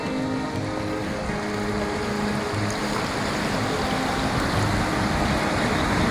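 After a cyclone flood, river water pours below a village pond's sluice as a loud, continuous rushing roar, steady and close throughout with no voices.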